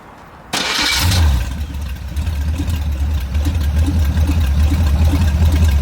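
A ZMZ V8 engine cranks and fires up after an automatic transmission (4HP22) install, then settles into a steady, loud, rumbling idle that continues to the end.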